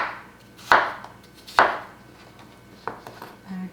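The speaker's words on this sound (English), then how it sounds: "now I cut these into, the size that you want it to be" Cucumbers are cut into pieces on a board for sweet and sour mustard pickles: two sharp knife chops about a second apart, then a softer third cut, all close and isolated in a quiet kitchen.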